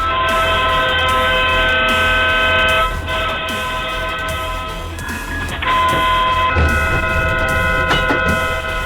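A busy train station rings with the sustained tones of train horns and the rumble of rail cars, loud and continuous, with shifting layers of mechanical noise and no talk.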